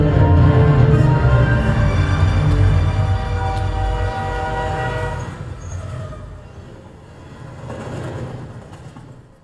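A train rumbles past loudly with heavy low-end roar and a sustained horn-like tone, then fades slightly and swells again as the cars roll by.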